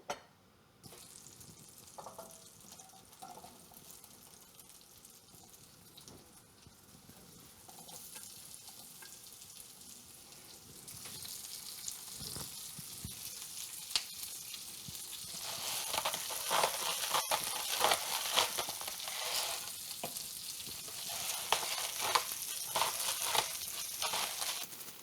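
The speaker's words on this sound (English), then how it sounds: "We're gonna start the same way by adding some butter and garlic oil." Squash and zucchini sizzle in a pan of butter and garlic oil, a soft frying hiss that grows louder and brighter partway through, with occasional stirring and scraping and no talking.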